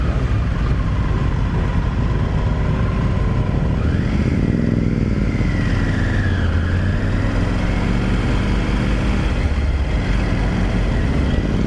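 A Triumph Tiger Rally Pro 900 motorcycle is ridden, its engine droning loudly and continuously with a rise and fall in revs partway through, mixed with road and wind rush and no voices.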